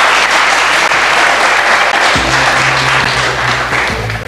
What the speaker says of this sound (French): On vous applaudit, bien sûr.